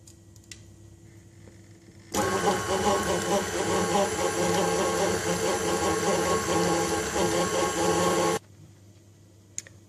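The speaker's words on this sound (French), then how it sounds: "On ajoute l'œuf et on remet à fouetter." An electric mixer whisks an egg into a creamy peanut butter cookie dough, a steady loud whirr that starts abruptly, runs about six seconds and cuts off, with quiet room sound on either side.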